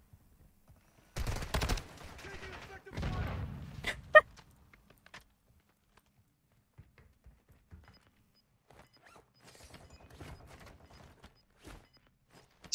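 Gunfire in the Call of Duty Warzone 2.0 video game: two loud bursts of rapid shots close together near the start, then a sharp single crack, followed by quieter scattered clicks and faint distant shots.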